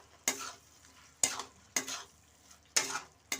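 A spatula scrapes through sizzling okra masala in a pan in four distinct strokes, each a sharp scrape fading into a soft sizzle.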